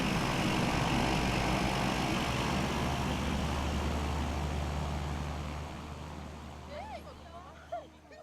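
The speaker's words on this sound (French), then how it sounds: "son bruit de moteur à turbine" A loud, steady turboprop aircraft engine roar that slowly fades away, with a voice speaking briefly near the end.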